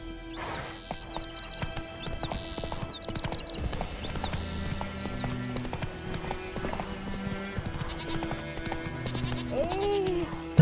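Hooves of the horse Roach clip-clopping at a steady rhythm in The Witcher 3, amid game ambience with dense layered sound, an occasional whinny and a voice speaking.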